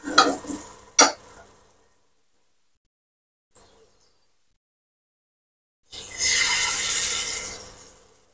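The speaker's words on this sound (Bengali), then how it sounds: "গুড় দিয়ে দুধটাকে জাল করে নেওয়া হচ্ছে।" Milk simmering with jaggery being stirred in a pot: a short burst of scraping stirs at the start, a long near-silent gap, then a sustained bubbling, hissing stir toward the end.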